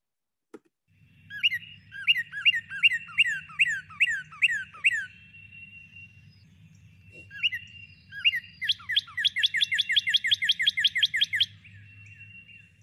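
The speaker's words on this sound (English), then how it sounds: "Northern cardinal." A recorded northern cardinal sings loud, clear whistled phrases, first a run of repeated slurred notes, then after a pause a faster, rapid trill, with a low hum underneath.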